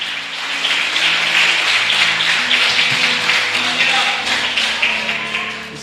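A church congregation claps in sustained, dense applause that fills the room at an even level for several seconds, with a low musical hum underneath.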